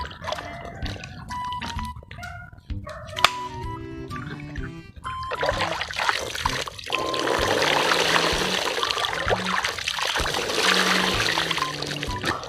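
Water trickles and splashes during an outdoor bath in a Philippine province on a hot day, a continuous close pouring that grows fuller partway through, with other background sounds at the start.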